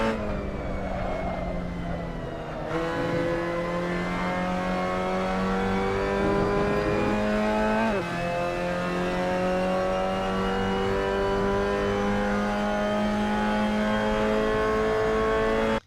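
A Mazda MX-5 Cup car engine in Assetto Corsa at Zandvoort drones loudly and steadily, with a gear change partway through and pitch climbing again as the car accelerates, with no voices.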